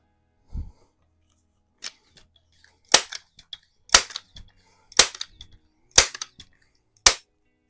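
A vintage Daisy No.107 Buck Jones air rifle fires in a garage, five sharp, loud snapping shots spaced about a second apart, each with a short echo, with faint handling noises between them.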